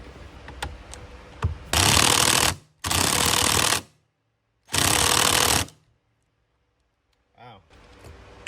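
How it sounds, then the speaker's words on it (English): Large impact wrench on an extension removing the steering wheel bolt of a Chevy SS, firing in three loud, sustained bursts with short pauses between them, with quieter clicks and handling noises before and after. "All right, so I got my big impact here."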